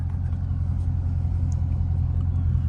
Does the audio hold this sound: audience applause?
no